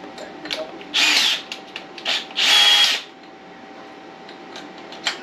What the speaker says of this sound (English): So I may have to drill it with this one and try to get that step bit to finish it off.